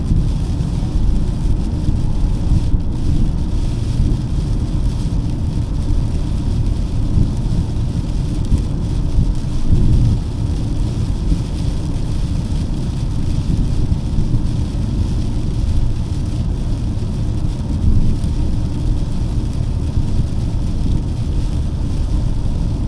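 Steady rain falls continuously in Madrid, a dense even hiss with a low rumbling undertone, no voices.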